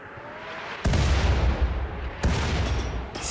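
Artillery fire striking a poison ship in the colony game Rimworld, two heavy booming impacts followed by rumbling decay over a steady background, with a third hit starting at the end.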